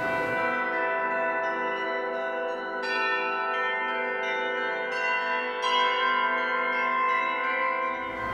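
Church bells ring from automated playback equipment at the Church of the Nativity of Christ in Krasnodar, a sustained, layered peal with fresh strikes every second or so, loud and steady with no voices.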